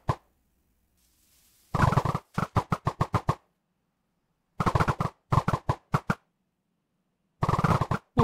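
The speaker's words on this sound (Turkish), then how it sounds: "Çok fazla ok sıkıyoruz." Volleys of arrows loose in rapid bursts in a modded Minecraft survival game, each burst a quick string of soft, close plopping thuds separated by short silences.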